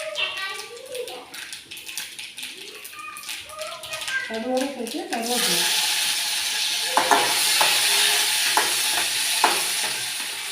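Two pinched dried red chillies frying in a home kitchen pan, a steady loud sizzle that rises midway and continues with occasional stirring taps, following a stretch of talk.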